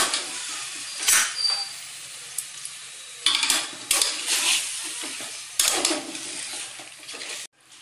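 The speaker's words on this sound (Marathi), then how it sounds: "हे मटण टाकून घेऊया आणि छान हलवून घेऊया आपण त्याला" Mutton pieces tossed into a pan over garlic paste and stirred, bursts of loud sizzling and scraping that rise and fall in waves with quieter gaps between, ending abruptly.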